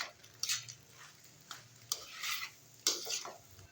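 Keema macaroni stirred with oregano and crushed chili flakes, giving a few sharp scrapes and clinks of a spoon against a pot over a faint low background hum, with short bursts spaced through the mix.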